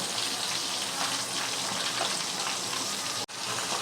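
Onions go into hot oil with dried red chillies for a chicken chinthamani, giving a steady, close sizzle that holds evenly throughout, with a brief dip near the end and no talk.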